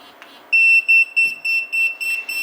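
A Retekess T119 restaurant pager beeps loudly in a regular train of sharp electronic pulses, about six in quick succession, close up with no talking.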